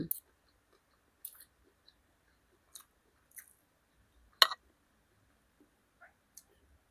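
Crispy pork basil rice being eaten up close, with sparse crunchy bites and soft chewing clicks separated by long quiet gaps.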